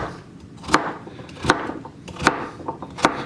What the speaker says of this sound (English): I'm going to go ahead and just take the knife through there, and I'm going to cube these into about 1-inch cubes